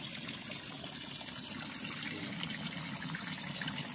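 Spring water welling up from the ground beside a river on a farm lot in the dry season, flowing continuously as a steady, even watery rush that holds at a constant level throughout.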